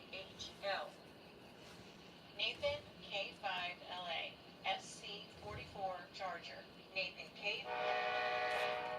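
A horn from a train simulator video game sounds near the end, a sustained, tonal blast that follows a stretch of someone talking.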